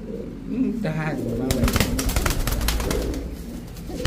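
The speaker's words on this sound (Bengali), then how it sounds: "ছাড়েন একটু, কবুতরটা ছাড়েন।" Naptha Baga pigeons, Pakistani fancy breeds, give several soft throaty coos close by, with fluttering and rustling around them and someone speaking over parts of the sound.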